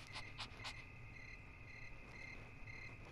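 A dog panting in the Yomawari: Midnight Shadows video game, three quick breathy huffs near the start, then steady ambient insect-like chirping and a high electronic tone pulsing on and off.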